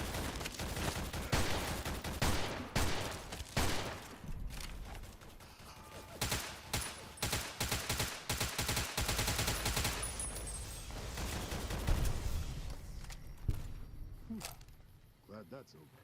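Gunfire from a hunting shotgun in the video game Fallout New Vegas, repeated loud blasts in irregular bursts alongside other weapons firing, with a voice talking over the combat.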